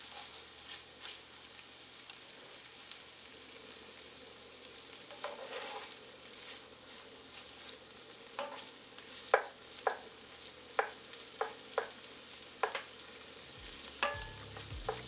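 Corn cooking in a pan over high heat, with a steady hiss of frying and a run of sharp clinks and scrapes near the end, all fairly quiet and with no talking.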